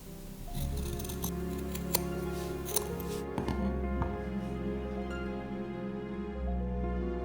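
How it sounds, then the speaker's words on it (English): Scissors trimming excess fabric along a seam on a detachable baby-outfit collar, a few crisp snips over steady low background hum. "Carefully trim the excess fabric, making sure not to cut the thread."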